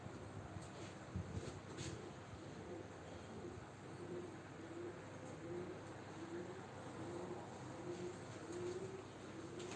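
Gökbenek pigeons coo in soft, rolling repeated phrases at a live pigeon auction, low and steady against a constant background hum, with no talk.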